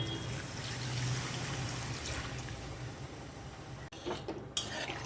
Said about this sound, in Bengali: সেই জন্য দেব অল্প পরিমাণে একটু গরম জল